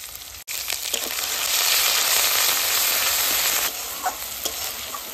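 Turmeric, salt and ground spice paste fry in hot oil for a cauliflower and egg kosha curry, a loud, close sizzle that surges, then settles into softer crackles and pops.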